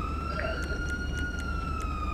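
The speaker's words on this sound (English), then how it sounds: "I still hear siren" A faint police siren tone from the FiveM video game lingers steadily over a constant low rumble, with a few light ticks and no speech.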